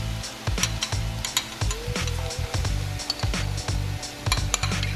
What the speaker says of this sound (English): now we're going to add the sauce that we made earlier to the mix